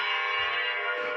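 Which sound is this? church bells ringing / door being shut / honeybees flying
church bells ringing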